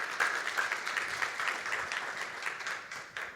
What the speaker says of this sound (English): A round of applause, please, for the panelists.